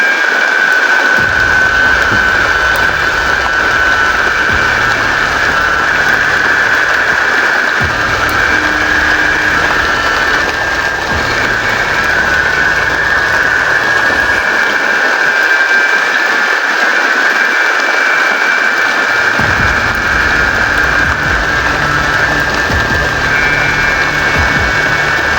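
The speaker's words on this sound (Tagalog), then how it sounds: "Ayan po, nakikita nyo po, guys, yung ulan, no?" Steady, heavy rain pours throughout, a dense hiss of drops on surfaces with a low engine-like rumble coming and going underneath.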